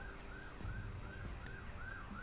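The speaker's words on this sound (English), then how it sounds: "Apologies about the Siren." A wailing emergency siren rises and falls in repeated sweeps, audible throughout over a steady background hum during a Magic Duels card game session.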